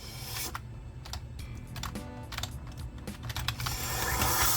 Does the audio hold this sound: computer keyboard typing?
yes